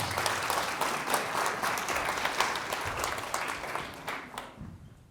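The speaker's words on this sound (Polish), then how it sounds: "Wielkie brawa." Audience applause at an art exhibition opening, a dense sustained clapping from a seated crowd that carries evenly for several seconds and then cuts off abruptly, fairly loud and close.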